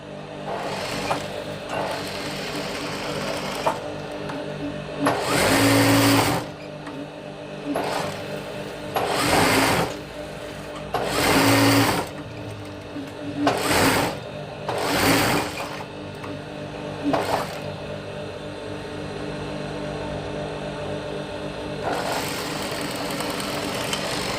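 A sewing machine runs in repeated loud bursts of several seconds each, stitching a lining seam on fabric, with quieter gaps between runs and a steady background hum throughout.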